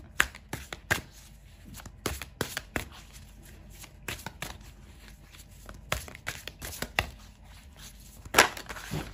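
Tarot cards are shuffled and drawn by hand in a series of sharp, irregular riffles and snaps, some louder flicks standing out against quiet gaps, with no voices.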